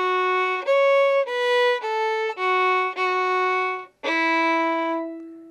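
A slip jig phrase from the Irish tune Farewell to Whalley played on a single melodic instrument, a run of clear sustained notes in a lilting rhythm ending on one long held note that fades out.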